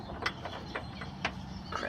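A hand ratchet removes a bolt from a Miata upper control arm, giving a few faint, irregular clicking bursts close by, with no talk.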